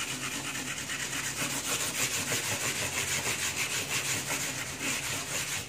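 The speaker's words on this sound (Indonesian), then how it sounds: "lu harus siapin amplas paling halus banget" Very fine sandpaper scrubs back and forth along a guitar fingerboard in quick, steady rhythmic strokes. The rasping is close and continuous, with no talking.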